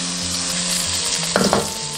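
Scallops sear in cooking oil in a pan over medium-low heat, giving a loud, continuous close-up sizzle with a brief burst of sharper crackling and spitting partway through.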